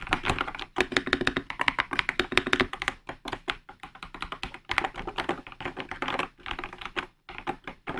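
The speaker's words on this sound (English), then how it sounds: "Let's now listen to the keycaps sound." Rapid, steady typing on a Redragon Wyvern K689 Pro gaming keyboard, with crisp clacking keystrokes close up, continuing with only brief pauses.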